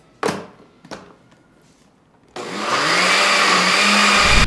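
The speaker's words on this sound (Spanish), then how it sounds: "Y vamos a llevárnoslo a licuar." Two dull knocks, then an electric blender whirs loudly and steadily for about two seconds, blending cream cheese for a lemon Carlota dessert, before cutting off abruptly.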